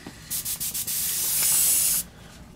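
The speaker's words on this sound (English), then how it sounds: "just get the airbrush going" Iwata HP-CS airbrush spraying brown paint: a few short hissing bursts, then one sustained steady spray lasting over a second before it cuts off, close and clear with no talking.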